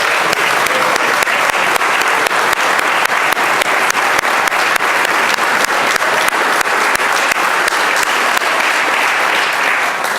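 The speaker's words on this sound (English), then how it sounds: "I would ask my fellow colleagues to give them a warm round of applause." Legislators in the Virginia House of Delegates chamber give a long, loud, sustained round of applause, dense clapping that keeps a steady level throughout.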